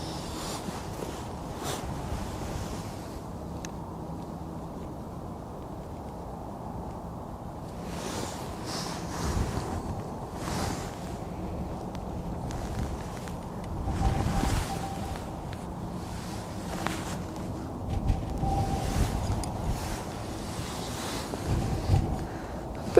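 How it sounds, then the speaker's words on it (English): Wind gusts roar across an open outdoor spot at Edinburgh Airport, a steady rushing buffet with louder surges and rumbling microphone wind noise, no talking. "the wind has definitely picked up again"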